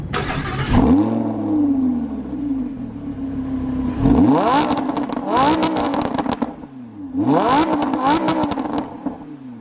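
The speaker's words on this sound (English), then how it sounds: "start up and rev" A Lamborghini's straight-piped engine barks to life, then is revved hard in two sharp bursts, a loud raspy exhaust roar rising and falling close by.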